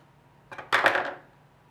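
Scissors snip through crochet yarn, a short near crisp cut of two quick bursts, the second louder, then quiet.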